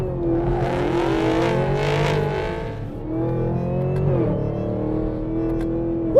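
Chevrolet Camaro ZL1 V8 revs hard and accelerates close by, a loud rising and falling engine roar with gear-change dips and steady power throughout, with no talk.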